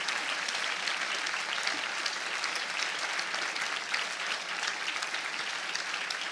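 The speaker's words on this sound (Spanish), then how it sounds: "darles un fuerte aplauso a estos hermanos por todo el compromiso que tienen" Loud, dense applause from a church congregation honoring members of a Verbo family church, many hands clapping in a continuous, even roar with no pauses or talk over it.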